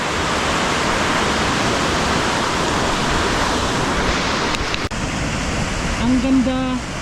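A river in Danao, Cebu rushes loudly and continuously, a broad roaring wash of water close by; near the end a short tonal sound, like a brief voice or call, rises briefly over the flow.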